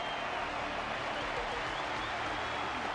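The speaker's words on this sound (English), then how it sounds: "Their constant applause is a salute to this resilient Belabogian fighter." Steady audience applause with crowd noise in the Honkai Star Rail video game, a dense, continuous wash of clapping at an even, moderate level.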